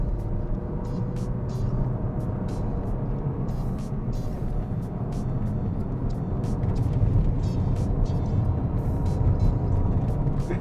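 A Mazda 6 climbing a gentle uphill road sends out a continuous low engine drone with rumbling road and tyre noise, steady and fairly loud throughout with small bursts of acceleration.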